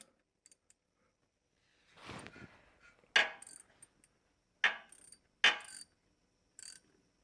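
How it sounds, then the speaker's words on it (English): A 13 mm socket ratchet tightens the drain plug on a Volvo XC90's front bevel gear, heard as a few short, distinct clicking bursts separated by quiet pauses, close and clear. "let's go ahead and put the socket on it, 13 mil, and go ahead and tighten her down"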